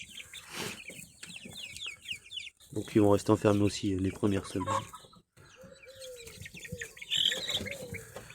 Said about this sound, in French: Les nouvelles poules, poulets, donc les Sussex.